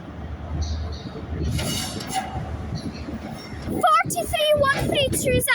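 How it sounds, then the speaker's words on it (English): A ScotRail Inverness to Edinburgh Waverley service pulls out of Perth station, a steady rumble of the departing train with rising squeals and wheel screeches toward the end, with faint talk in the background. "departing out now is the delayed 1507 ScotRail service from Inverness to Edinburgh Waverley"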